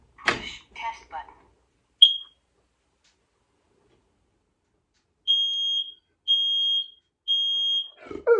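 A smoke detector in a remote Alaska cabin gives one short high chirp after its test button is pressed, then three loud piercing alarm beeps in a steady rhythm, with brief speech at the start and end.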